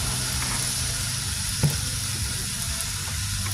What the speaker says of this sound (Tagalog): Haluin nyo lang siya hanggang sa maluto